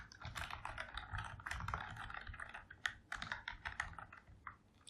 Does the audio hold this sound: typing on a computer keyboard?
yes